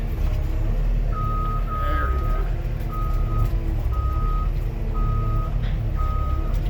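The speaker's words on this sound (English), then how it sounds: "Turn that damn beeper off" A reversing beeper on a tractor or truck sounds in a steady series of loud, evenly spaced tones over a continuous engine rumble, with some talk underneath.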